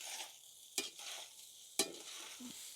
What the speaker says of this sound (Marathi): आपण आता शेंगदाण्याचा कूट घालून घेऊ जाड बारीक केलेला। मिक्स करून घेऊ खिचडीमध्ये।